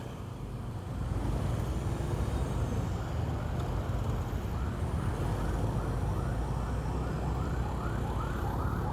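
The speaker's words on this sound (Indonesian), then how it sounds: "Ada ambulan, kita kiri sedikit." Ambulance siren wailing on a road, heard from a motorbike, rising as it nears and repeating its sweeping two-tone cycle loudly over steady traffic and engine noise.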